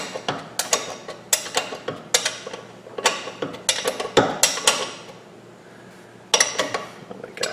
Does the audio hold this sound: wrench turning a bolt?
yes